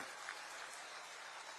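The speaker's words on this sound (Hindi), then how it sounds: "एक बार जोर से ताली बजा दो" Crowd applauding at an outdoor BJP political rally in Mainpuri, a steady dense wash of clapping heard at a distance, quite faint and continuous throughout.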